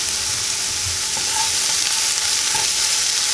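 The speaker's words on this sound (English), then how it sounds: "depending on how much fat your bacon has, that may be all the fat we need for this omelet" Bacon sizzles steadily in a pan over medium heat, a dense close crackle of spitting fat with a few brief pops, and no voices.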